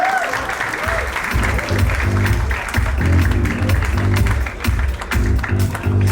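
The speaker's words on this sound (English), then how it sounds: "Yes, big round of applause, ladies and gentlemen." Audience applause at a film trailer launch event, a dense continuous clapping from a large crowd under steady hall ambience, with low music-like tones underneath and loud throughout.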